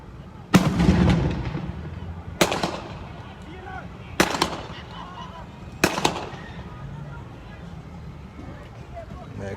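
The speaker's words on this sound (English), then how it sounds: "here comes another bomb" Homemade bombs or fireworks go off at a street protest outside a Chase Bank: four loud, sharp blasts spaced a couple of seconds apart, each with a ringing tail, over crowd noise and scattered voices.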